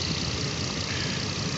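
A Nissan Maxima engine with a 15-volt alternator fault idles steadily, a constant broadband mechanical hum heard close and alone.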